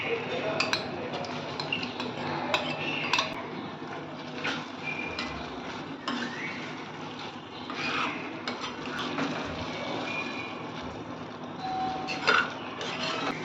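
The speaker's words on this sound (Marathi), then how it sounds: "आता मी यामध्ये ही कोलंबी घालणार आहे." Prawns going into fried masala in a pan, with a spoon clinking and scraping against the metal in irregular bursts over a soft sizzle.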